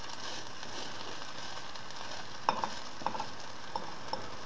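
A hake fish patty sizzling in a hot frying pan, a steady close crackle of oil with a few sharp taps and scrapes of a spoon pressing the patty down.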